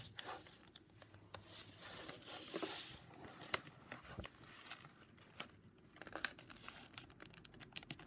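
A sheet of paper being folded into a paper airplane crinkles and rustles up close in irregular bursts of crisp creasing and sharp crackles, separated by short quieter gaps, with no voices.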